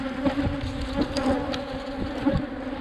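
Honey bees buzzing around a brood box with a nearly full first honey super, a dense, continuous hum with droning tones and passing individual buzzes close by.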